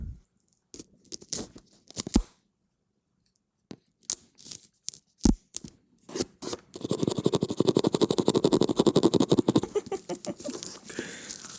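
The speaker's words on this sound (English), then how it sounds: "I'm going to cut open the box" A cardboard box is cut open up close in a quiet room. A few scattered scrapes and taps give way to a dense, rapid run of tearing and slicing sounds.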